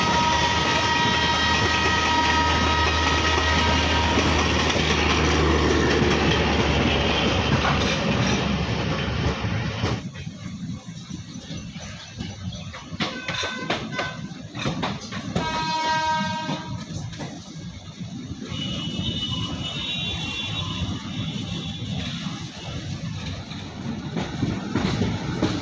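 Ranchi–New Delhi Garib Rath Express train running steadily, a loud continuous rumble with rhythmic wheel clatter on the rails and tonal brake or horn-like squeals near the middle, heard from close by without any talking.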